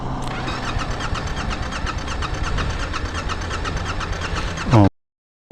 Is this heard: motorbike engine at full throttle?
yes